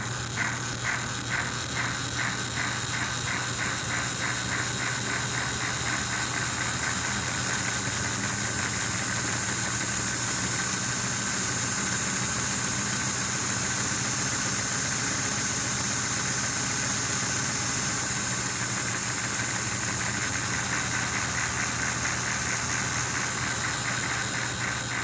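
An American Flyer S gauge locomotive with a Puff & Chuff unit and ball-bearing chuff gear runs at high speed with a loud, continuous motor whir and a fast, rhythmic chuffing pulse.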